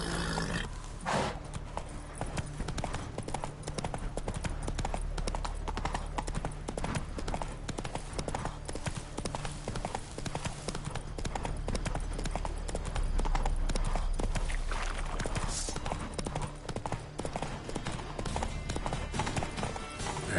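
In the game The Witcher III, the horse Roach gallops with a rapid, steady clip-clop of hooves, loud and close and continuous throughout, with game ambience and occasional voices underneath.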